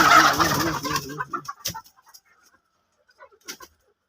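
A flock of chickens cluck busily at close range while eating scattered broken rice, then fall mostly quiet, leaving only a few soft pecks and scattered faint clucks.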